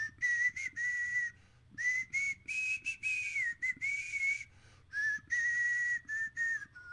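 A person whistles the tune of a song, a clear close melody in short phrases with brief pauses, heard alone without talk.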